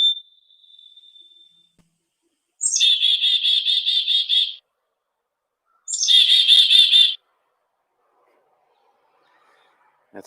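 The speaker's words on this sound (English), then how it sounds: "That's my friend the chickadee speaking to us this morning" A chickadee calls in the morning: a thin whistled note, then two bursts of rapid, high buzzy chirping separated by silence, clear and fairly close.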